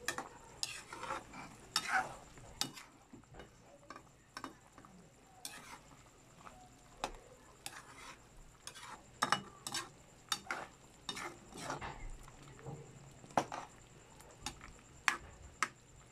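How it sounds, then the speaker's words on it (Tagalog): A spoon stirs chicken pochero in a pot, giving quick irregular scrapes and clinks against the metal over a soft simmering sizzle, close and fairly quiet. "Halu-haluin, halu-haluin, halu-haluin."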